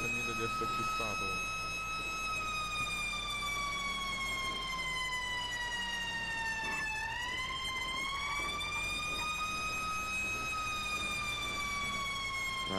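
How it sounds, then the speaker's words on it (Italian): Emergency vehicle sirens from the fire service in the Italia Roleplay video game wail steadily throughout, a loud rising and falling tone with a brief dip midway, set over a busy background mix. "Mamma che sirene."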